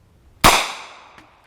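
A single unsuppressed 9mm shot from 165-grain FMJ HUSH subsonic ammunition cracks sharply and close, its report decaying over about a second, followed by a faint metallic tick.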